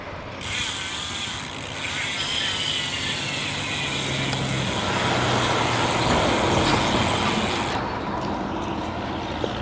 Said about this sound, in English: Sorry, it's traffic here.